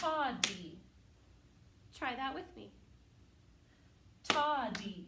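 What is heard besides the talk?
hand clapping two times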